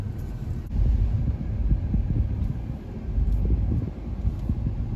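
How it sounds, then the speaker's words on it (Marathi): A car reversing slowly into a home garage, its engine giving a steady, close low rumble and throb with faint wind noise, no voices. "आम्ही गाडी आता गॅरेजमध्ये घालतोय"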